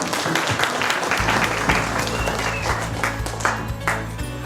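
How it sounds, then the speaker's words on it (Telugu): An audience at a crowded event in Hyderabad applauds. Dense, loud clapping comes in suddenly and carries on steadily with a low background hum, and there is no clear speech. "మీ అందరికీ కూడా a big clap to all"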